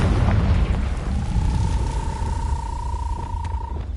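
Confringo fire spell blast in Hogwarts Legacy, a deep rumbling boom rolling low and loud, with a thin sustained tone ringing over it as the roar slowly fades.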